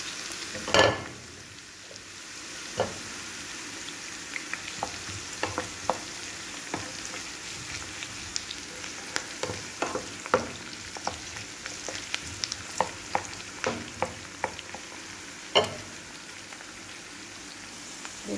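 Carrot pieces dropped into a pan of softened onions sautéing, with steady sizzling, a few sharp impact clatters near the start and scattered clicks of stirring throughout, close and moderately loud.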